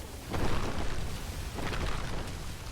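A fire-infused earthquake spell erupts in the video game Spellbreak as a deep, rumbling blast with two swelling surges of roaring, crackling noise, fairly faint and continuous.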